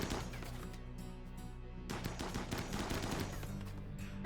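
Assault rifle fire in the video game RimWorld, bursts of rapid clipped shots over a steady background, with a denser, busier stretch in the second half.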